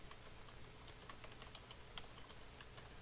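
A computer keyboard clicks as a query name is typed into Microsoft Access 2010, soft quick keystrokes in an irregular run, faint and close, with no talking.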